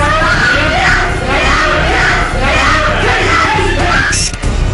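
Girls shrieking and yelling in distress during a police struggle to subdue their father, several loud overlapping voices continuing throughout amid general commotion.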